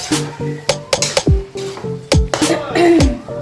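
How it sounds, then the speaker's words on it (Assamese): Jackfruit curry being stirred in a pan, with repeated scraping and clinking of a spoon against the metal and a soft sizzle underneath, close and fairly loud, as someone talks over it. "এনেকৈ লৰাই থাকিব লাগিব অলপ সময় তলাত নালাগা কৰি"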